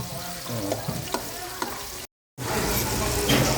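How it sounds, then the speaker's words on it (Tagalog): Garlic, onion, ginger and tomato sautéing in a pan make a steady, close sizzle with a few sharp utensil clinks. It cuts out briefly, then returns louder and hissier. "dito magigisa na tayo ng mga aromatics natin. Bawang, sibuyas, luya, tsaka kamatis."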